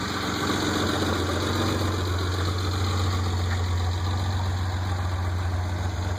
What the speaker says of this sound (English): It's loud, it has an exhaust leak.